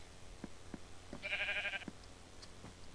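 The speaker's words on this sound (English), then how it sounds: "What are we doing with a sheep?" A sheep bleats once in a video game, a short, faint, wavering bleat over quiet background noise and soft clicks, with no talk.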